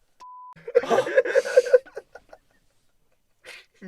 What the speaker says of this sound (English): We've got to bleep that.